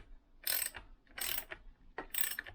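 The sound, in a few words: tightening the nut on a Lambretta crankshaft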